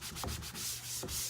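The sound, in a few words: rubbing chalk residue off a chalkboard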